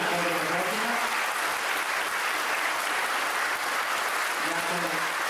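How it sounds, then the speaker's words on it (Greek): Hall audience at a commemorative event for Saint Kosmas the Aetolian keeps up sustained, loud applause, a dense even roar of clapping with a faint voice briefly audible underneath. "Ένα πιο δυνατό χειροκρότημα."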